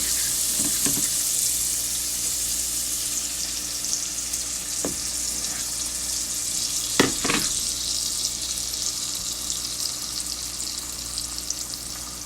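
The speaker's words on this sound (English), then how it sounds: "I'm going to pour my eggs in here." Beaten eggs for a scrambled omelette sizzle steadily in a hot pan, a constant bright frying hiss with a few clinks and scrapes of a utensil against the pan.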